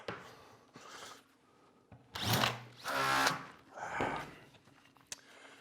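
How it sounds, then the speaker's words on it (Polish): A power drill bores holes into wood while a wooden pouf is being built, with several loud bursts of whining drilling separated by quieter pauses. "Troszkę było tego nawiercania."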